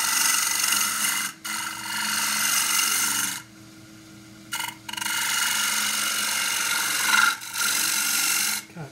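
Woodturning tool cutting a shoulder into a spinning forest sheoak flat box on a lathe, a loud steady rasping scrape in long passes broken by brief pauses where the tool lifts off.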